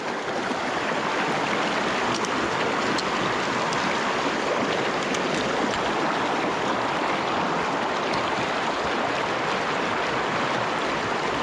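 A small creek flows steadily in a broad, unbroken rushing wash, close and even in volume for the whole stretch, with no speech over it.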